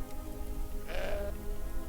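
A goat in the Deponia Doomsday adventure game lets out a single short, nasal bleat over a steady bed of game music and ambience.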